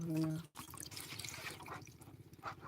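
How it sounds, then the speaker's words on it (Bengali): Water pouring into a bottle outdoors in a village, a faint gurgling trickle under a person's voice, close but quiet with some breaks in the flow. "হাতের মধ্যে দাও জল ভরছি দেখো"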